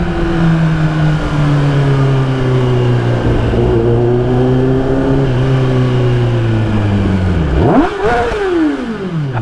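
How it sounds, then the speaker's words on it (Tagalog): A 2024 Kawasaki ZX10R with an aftermarket Spark exhaust drones loudly and up close, its pitch easing slowly down before a sharp rev climbs near the end. "Testing natin yung lakas ng spark exhaust."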